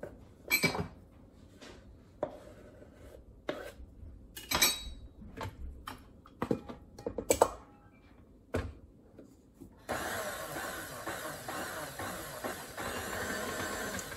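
A kitchen mixer working pretzel roll dough with flour: scattered clanks and knocks from the bowl, then a steady, buzzing motor run near the end, with no talking.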